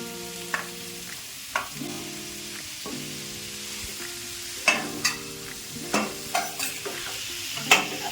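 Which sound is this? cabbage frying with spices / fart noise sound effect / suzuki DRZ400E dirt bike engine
cabbage frying with spices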